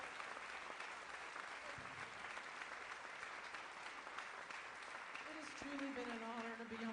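A church congregation applauds a singer, with steady, dense clapping filling the room and a voice beginning to speak over it near the end.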